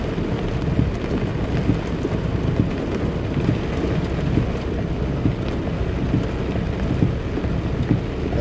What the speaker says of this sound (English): the rain just started to fall like 5-10 minutes ago